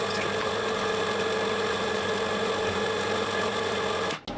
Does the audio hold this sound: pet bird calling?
no